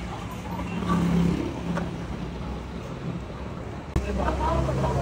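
A Hop-On Hop-Off tour bus in Kuala Lumpur gives a steady, close engine rumble and road noise, with one sharp knock about four seconds in.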